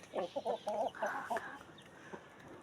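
A nearby hen clucks in a short run of rhythmic calls, then drawn-out squawky notes fade into quieter background.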